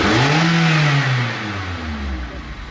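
A Volkswagen Golf GTI's 2-litre turbo engine revs loud and close, rising in pitch and then falling away as the revs drop.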